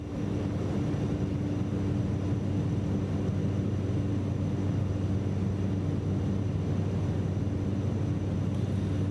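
Cessna Caravan turboprop flying in Microsoft Flight Simulator 2024, a steady loud engine drone with a constant low hum and propeller whir, no voices.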